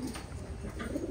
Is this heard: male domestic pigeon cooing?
yes